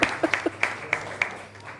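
Sparse claps at a book launch, about eight sharp, distinct hand claps in an uneven rhythm, fairly close and separated by short gaps, thinning out toward the end.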